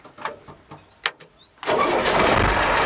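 Truck engine starting: a few soft clicks and a sharp snap are followed by the starter cranking, then the engine catches and settles into a steady, loud, close rumble.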